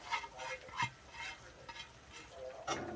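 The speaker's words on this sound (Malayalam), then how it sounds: "നമ്മളുടെ എണ്ണ മൂപ്പിച്ച് പൊടി ചൂടാക്കിയാണ് ചേർക്കുന്നത്" Spice powder heated in hot oil for a beetroot pickle: soft, quiet sizzling broken by intermittent scraping strokes of a spoon stirring in a pan, in short bursts.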